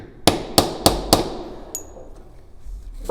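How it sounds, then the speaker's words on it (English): A leather stamping tool is struck with a hammer on thin burnished leather, four sharp evenly spaced taps in quick succession, close and crisp, followed by a faint clink. "we can still get a nice stamp across there just by having a decent burnish on there"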